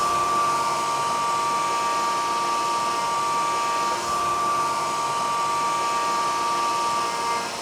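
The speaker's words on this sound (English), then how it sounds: "This is a flat table CNC, and the part that they're running here, you see the head come out." Flat table CNC machine at a door factory cutting an arch door piece, a continuous high spindle whine with a steady pitch and a slight dip midway, loud and close with no speech.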